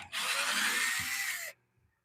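A power drill drives a stainless steel wood screw, one steady whirring burst about a second and a half long that stops abruptly, close and fairly loud, with a faint knock near the end.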